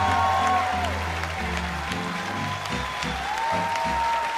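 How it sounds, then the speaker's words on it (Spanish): A television studio audience claps during a Caracol Televisión talk show, moderate applause mixed with loud music and a few voices. "¡Un aplauso para Don Ale!"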